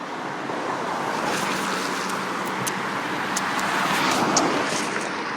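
Cars hiss past on a rain-soaked road in a continuous broad wash of tyre spray and traffic noise, rising gently toward the end, with no voices.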